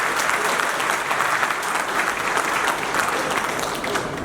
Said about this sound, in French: Veuillez vous asseoir et applaudissez pour lui